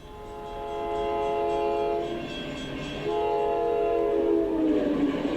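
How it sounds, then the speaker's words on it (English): A train passes with its horn sounding, a loud sustained tonal blast that swells and then drops in pitch as it goes by, with rumbling rail noise beneath and no talking. "This is what Doppler effect sounds like from a train."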